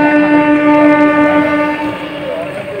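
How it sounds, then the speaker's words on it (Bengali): A train passing near a quiet station on a cold morning, a loud droning tonal rumble that stays strong and then eases slightly toward the end, heard nearby without speech. "ট্রেনের আওয়াজ শুনতে পাচ্ছি দাঁড়িয়ে দাঁড়িয়ে"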